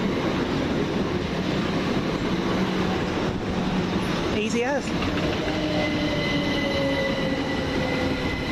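Class 387 electric train, unit 387112, at East Croydon station: a steady rolling rumble and rail noise fill the platform throughout, with a brief rising squeal midway and a thin whine later, while someone talks over it.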